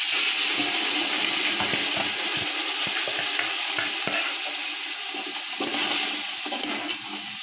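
Spiced masala of pepper, cumin, onion, garlic and coconut hits a hot pan with a loud, steady sizzle that fills the whole clip, easing slightly toward the end, with faint stirring scrapes throughout.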